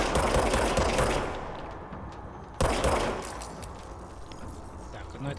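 Gunfire from a sidearm in the video game Control, a dense burst of rapid shots at the start, then a second loud burst midway, with speech faintly in the mix.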